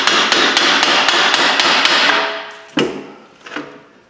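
Hammer blows on a Subaru Outback rear wheel hub: a rapid run of sharp metallic strikes, then a couple of heavier isolated whacks as the ringing fades, loud and close with no speech.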